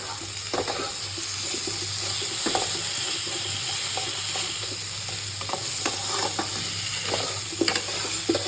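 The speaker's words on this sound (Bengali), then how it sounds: "এবার এটাকে কষতে হবে সমানে আলুটার সাথে" Cumin powder sautés with potatoes in a pan, giving a close, continuous sizzle broken by scraping stirs at an uneven pace.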